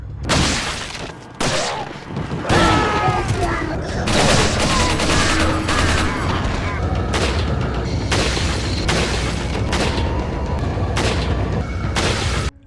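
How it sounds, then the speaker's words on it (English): Gunfire in the original Resident Evil 4 video game, heavy weighty shots fired in rapid bursts and repeated volleys with booming impacts, loud and dense across the whole stretch. "Every gun, just every single shot, even like for weaker guns, just feels so weighty."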